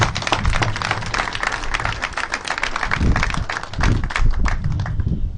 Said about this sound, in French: Applaudissez les instructeurs.